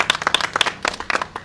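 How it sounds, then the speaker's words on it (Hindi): Applause at a disciple initiation ceremony, a small group clapping in quick, uneven bursts close by, with some chatter around. "उस्ताद जी अपना हाथ से शागिर्द करते हुए तालियां तो बजाओ"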